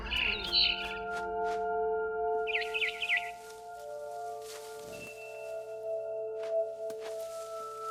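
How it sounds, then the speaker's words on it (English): A barn swallow chirps in the video game What Remains of Edith Finch: two short bursts of bright, rapid twittering over soft, steady tonal music and faint ambience. "Then I heard chirping outside my window. It was a barn swallow going back to her nest."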